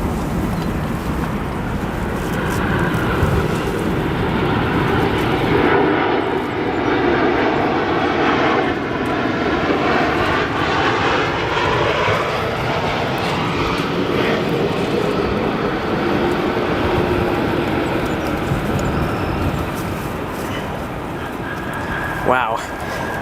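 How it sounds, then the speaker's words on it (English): A Boeing 787 Dreamliner arriving from Athens lands on runway 9 center at Chicago O'Hare, a loud steady jet engine roar with shifting whine and wind buffeting, lasting throughout, with a voice talking over it. "Our next arrival here on runway 9 center, Boeing 7878 Dreamliner arriving from Athens."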